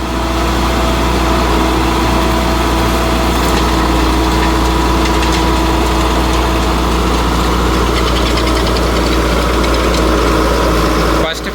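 Sonalika Tiger 75 CRDI tractor in creeper first gear near 1700 rpm driving a new rotavator through a tough banana field, a steady loud diesel drone with constant mechanical clatter throughout, close and continuous with no pauses.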